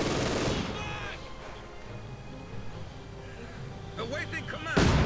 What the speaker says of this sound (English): A lonely machine gunner doing his job.